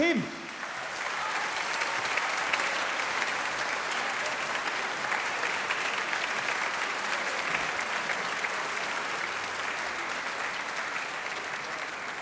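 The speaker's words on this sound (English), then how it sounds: "let's just have a round of applause for the leader of the orchestra" Long, steady applause from a large concert hall audience at a schools' spring concert honoring the orchestra leader, a broad even roar of clapping that holds for many seconds after a brief opening voice.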